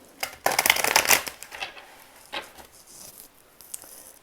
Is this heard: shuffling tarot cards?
yes